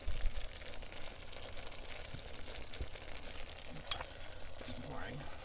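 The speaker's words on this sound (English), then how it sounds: "And then you add a cup of milk." Milk is poured bit by bit into a butter and flour roux in a pan while it is stirred, giving soft sizzling, scraping and liquid sounds close by.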